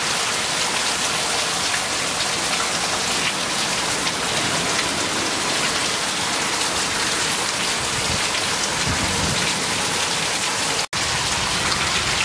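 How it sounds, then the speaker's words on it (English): Heavy storm rain pours in Pensacola as a dense, constant roar, wind-driven and loud outdoors, with no clear thunderclaps standing out. "Crazy storm now. It's starting to go sideways."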